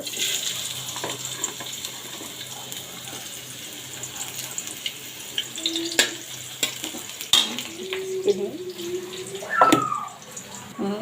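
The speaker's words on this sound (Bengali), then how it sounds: "এখানে আমি সামান্য একটু তেল দিব হুম পেঁয়াজ কুচিগুলো দিয়ে দিব" Chopped onions dropped into a little hot oil in a pan for a chickpea and wheat bhuna, with a steady soft sizzle, scattered stirring scrapes and clinks, and a few louder clatters near the end.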